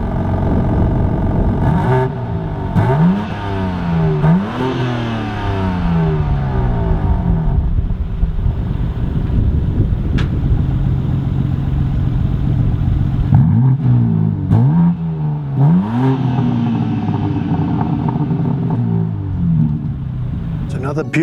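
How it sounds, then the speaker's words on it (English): A BMW M3 Competition G80 with its exhaust valves open and M mode engaged revs repeatedly, each blip rising and falling, with a deep exhaust rumble under a talking voice and a second run of revs later. "So this is now with the exhaust valves open and M mode on."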